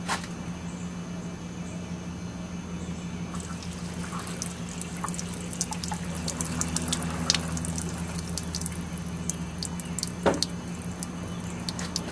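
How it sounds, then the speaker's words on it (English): Poured water drains out through a replaced sunroof drain hose on a 1989 BMW E30 325is, a steady faint trickle and splash with occasional drips, close and continuous without speech. "I just poured some water down just to verify that it would dump out correctly"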